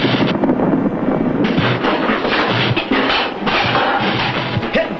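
Ammunition exploding and gunfire aboard a ship, rumbling blasts rolling together in a dense, continuous barrage, loud and close with no pauses.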